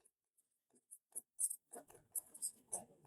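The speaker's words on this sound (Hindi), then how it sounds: "एक प्रश्न में मैं आपके सामने लिखता हूं" Handwriting a question in front of a class during a Hindi literature lesson: a series of short, scratchy strokes in irregular bursts that grow busier toward the end, with no voice over them.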